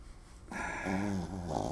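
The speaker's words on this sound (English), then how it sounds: "That is a dog snoring, Matt." A little bulldog snores close by with a loud, rough, growly rasp that rises into a drawn-out rumbling breath, heard alone without talk.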